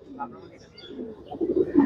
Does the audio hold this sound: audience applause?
no